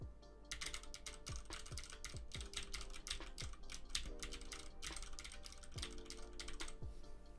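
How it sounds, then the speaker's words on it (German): Rapid clicking keystrokes on a computer keyboard picked up by a desk microphone, a steady, fairly close patter of many light taps lasting throughout with no voices. "Das ist eigentlich sozusagen mein Ton von der Tastatur."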